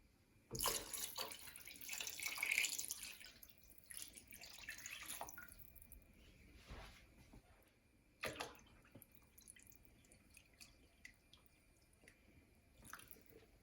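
Water splashes and pours into a stock pot of turkey wings, a loud gush at first that thins into trickles and occasional drips, with no voices.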